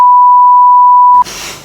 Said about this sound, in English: maybe we can beep this out